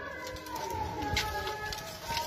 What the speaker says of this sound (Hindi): बाकी माशाल्लाह गाढ़े जालदार कबूतर हैं सारे